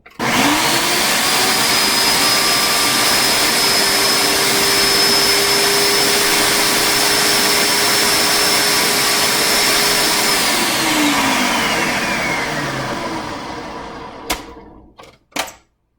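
A food processor blends ají verde sauce, a loud, steady motor whir running alone for about twelve seconds before spinning down, followed by a few brief knocks.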